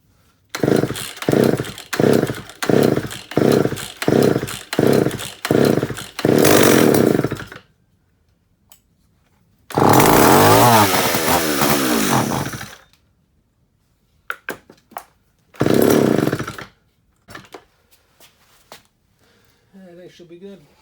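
A Pro Mac 610 chainsaw fires in a string of short rhythmic pulls and bursts, then runs in two louder sustained roars separated by silence, with brief clicks and handling noises between.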